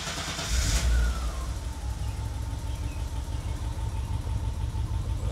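A BMW E30 engine cranks briefly with a short burst near the start, then settles into a low, steady idle rumble with no one talking over it.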